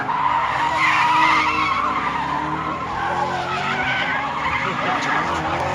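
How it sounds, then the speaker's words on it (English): Cars drifting with sustained tire screeches over roaring engines, loud and continuous, as if heard from trackside. "then went over and watched a bit of drifting"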